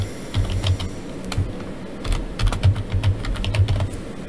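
Fingers type a tag name on a computer keyboard, a close, brisk run of uneven key clicks with short pauses between bursts.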